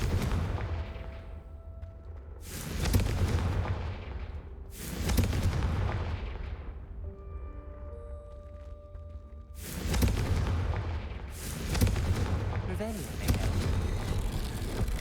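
Repeated loud blasts from the Confringo fire spell in the video game Hogwarts Legacy, several broad booming bursts spaced a few seconds apart over a constant game soundscape, with sustained tones in between.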